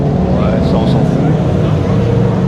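Classic Renault race cars roll into Magny-Cours, a loud, dense engine roar close by that stays constant, with someone talking over the noise.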